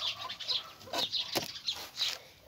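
Bantam hens cluck in a backyard coop, giving several short, separate bursts of fairly close clucking spread across the moment, with quiet gaps between the calls.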